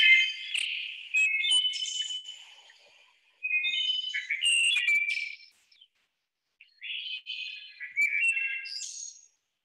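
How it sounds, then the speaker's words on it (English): Wood thrush singing in three separate bursts of clear, flutelike, rapidly shifting phrases, with short silent gaps between them, fairly close and alone against a quiet background. "Let's start with this wood thrush."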